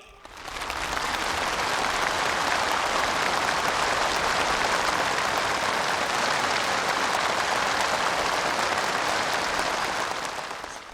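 Enthusiastic applause from a large gathering of conference participants at a formal congress, dense and sustained at steady loudness for about ten seconds, fading in and out at the edges, with no talk over it.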